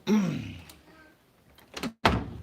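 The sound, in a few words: door being shut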